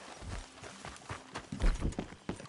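Horse hooves clip-clop at a walk in the Western video game Red Dead Redemption 2, with steady irregular footfalls against a busy background, no talk.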